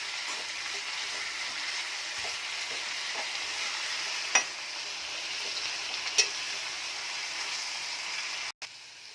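Salt-washed bitter gourd pieces frying in a pan, a steady dense sizzle throughout with a few soft stirring clinks, close and fairly loud, no voices.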